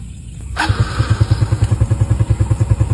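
A used motorcycle offered for sale starts up: a brief crank, then the engine catches and settles into a rapid, even putter of firing pulses, loud and close, with no talking.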